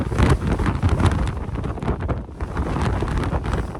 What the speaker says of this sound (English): there's the wind currently hunkered down so we don't actually get blown over